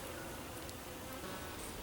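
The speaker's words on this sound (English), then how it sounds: "Lots of bees." Honeybees humming softly in an open beehive during a fall inspection, a faint continuous buzz close by, with no talking.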